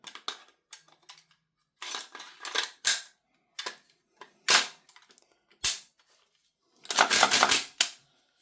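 A Tokyo Marui HK416A5 MWS gas blowback airsoft rifle, fed from a GunsModify magazine, fires single shots and quick bursts of snapping cracks, sharp and close, with uneven pauses between them.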